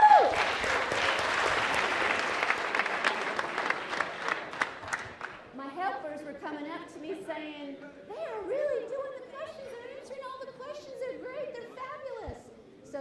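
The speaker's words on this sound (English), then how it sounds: "let's give you a round of applause for doing that perfectly" An audience at a conference for newly elected county commissioners gives a round of applause for a few seconds. The clapping then gives way to lively crowd chatter and laughter, with people talking over one another.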